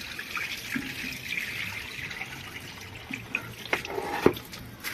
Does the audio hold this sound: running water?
yes